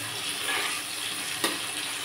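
Jackfruit pieces fry with salt and turmeric in a pan, giving a steady, close hiss of sizzling oil with one brief sharp clink or stir partway through.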